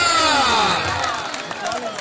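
Crowd at a kabaddi-style wrestling match between Zubair Khan and Waseem Sheikh in Mithha Tiwana, cheering loudly with shouts that fade slightly toward the end, voices mixed in.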